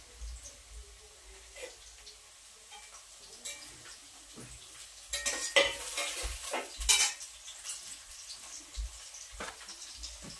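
Vegetables fry gently in a pan over a low flame, a soft sizzle broken by a spoon scraping and clinking against the metal, quiet overall and briefly busier in the middle, with no voices.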